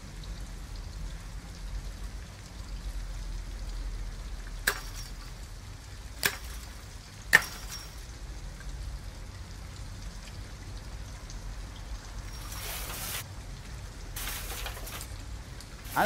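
Steady rain patters in a quiet background in the video game Detroit: Become Human, with a few sharp isolated impacts and a short louder rush of noise near the end.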